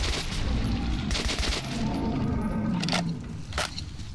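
Dense, rapid gunfire from a weapon in the Metro 2033 Redux video game crackles in close, loud bursts that run almost the whole time with only brief dips.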